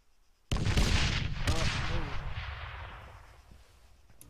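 A frag grenade blast in ArmA III booms suddenly and loudly, then a second heavy report follows within a second before the rumble decays slowly over a few seconds.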